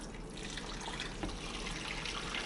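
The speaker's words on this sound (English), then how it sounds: "Fill it up with water." Water pouring steadily into a crockpot for a vegan stew already holding salt and rainbow peppercorns, a continuous close splashing fill with no pauses.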